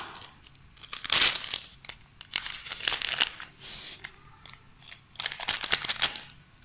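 A packet of vanilla sugar being torn open and tipped into a baking bowl, heard as loud crinkling and tearing paper bursts in several irregular bouts, close and clear with no talk.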